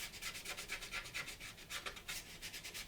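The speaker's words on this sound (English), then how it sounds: "we wet the cloth, get some grime onto it, get it looking all nice and grimy" Wet cloth rubbing grime across a panel of an Airfix 1:72 Vulcan plastic model kit, a soft, close, rhythmic scrubbing with quick repeated strokes, steady and fairly quiet with no voices.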